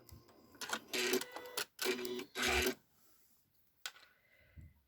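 A sewing machine stitching a tree trunk onto a postcard-sized scrap-fabric card, with three short bursts of rapid mechanical whirring and clatter, then a single brief tap, all close against a quiet background.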